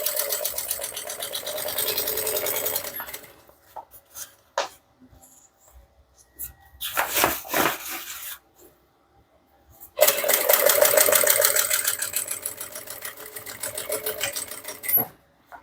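Sewing machine stitching straight seams on a handmade bag, loud bursts of rapid mechanical stitching separated by pauses and short clicks.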